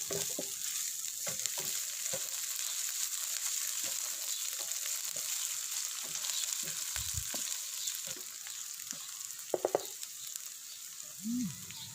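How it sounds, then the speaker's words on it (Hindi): Ginger garlic paste frying with browned onions, a loud steady hiss of oil under scattered soft knocks and scrapes of a spoon stirring, with a few quick clicks near the end. "अब इसमें 1 खाने वाला चम्मच अदरक लहसुन का पेस्ट शामिल करेंगे और मज़ीद 1 मिनट के लिए अच्छी तरह पका लेंगे"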